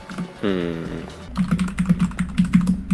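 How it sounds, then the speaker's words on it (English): Fast typing on a computer keyboard, a dense run of clicky keystrokes close to the mic, comes after a short tonal blip near the start. "my bro was breathing and typing up a tornado"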